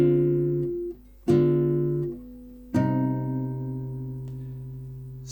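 Three sustained piano chords of a minor ii-V-i progression, each struck cleanly and left to ring and decay before the next, ending on a long final chord.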